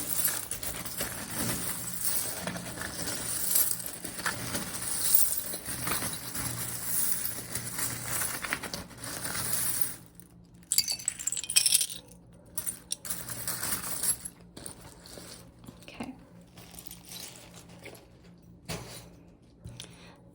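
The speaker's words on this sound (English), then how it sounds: "let's give the charms a nice shuffle." Small metal charms jingle and clink as they are shuffled, a busy rattling that thins out into scattered soft clinks and pauses.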